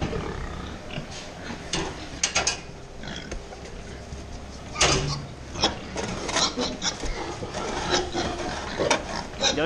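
A shovel scrapes and rasps across the floor of a pig transport truck in uneven strokes, gritty scraping bursts close by with brief pauses between.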